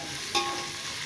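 Onions fry in a hot pan with a steady hiss of sizzling oil and a single brief scrape of stirring, close and moderately faint with no talk.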